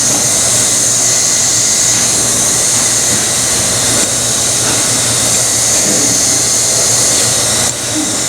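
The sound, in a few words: hot air welding gun blowing on tent patch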